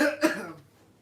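A single close, sharp cough from a woman that fades quickly into quiet, heard alone without talk.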